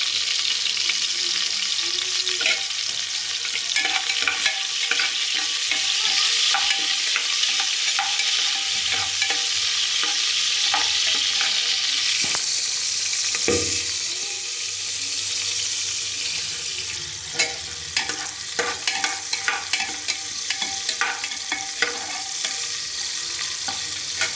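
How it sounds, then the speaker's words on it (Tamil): Onions being sautéed in a pan for arisi upma, a steady sizzle and frying hiss running throughout with scraping stirs, loud and close with no talk. "அடுத்து வதக்கிறதுக்கு வெங்காயம்"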